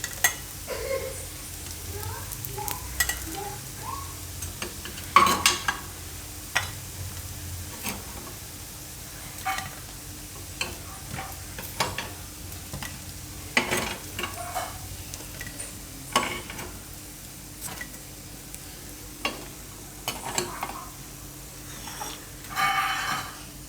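Methi gota frying in a little oil in an appe pan gives a soft, faint sizzle broken by intermittent ticks and scrapes as the pieces are turned, with occasional quiet voice in the background.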